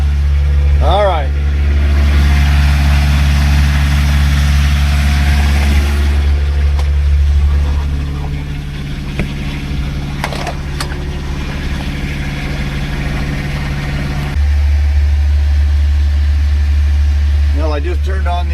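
A car engine idles close by after the ignition is switched on, a loud steady low rumble with a brief rev early and a small shift in tone midway, while someone talks over it.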